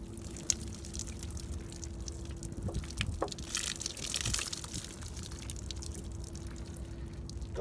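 Water pours and splashes while soap is rinsed off during a wash, a steady running gush with a few drips, close by and alone.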